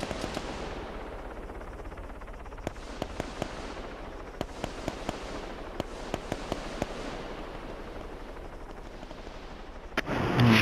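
Gunfire in Arma III during a King of the Hill match: sharp, scattered shot cracks ring out at irregular intervals over a steady background rumble, followed by a louder burst at the end.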